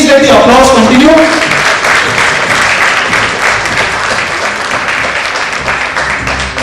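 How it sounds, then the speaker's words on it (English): Loud, sustained applause from a corporate business quiz audience honouring the fifth-place team. Dense clapping fills the room, with a brief voice over the opening second before the clapping carries on alone, easing slightly in volume. "For finishing 5th, please let the applause continue."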